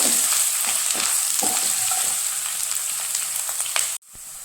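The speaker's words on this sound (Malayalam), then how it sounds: "ചെറുതായി അരിഞ്ഞത്, പച്ചമുളക്, വറ്റൽമുളക് ഇതൊക്കെ ഇതിനകത്തേക്ക് ചേർത്ത് കൊടുക്കാം. വഴറ്റി കൊടുക്കുക." Finely chopped ginger, onion, green chillies and dried red chillies sauté in a hot pan for a rose apple pickle: a loud, steady sizzle with scraping stirs that stops abruptly near the end.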